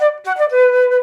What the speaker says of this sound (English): So with clear double tonguing.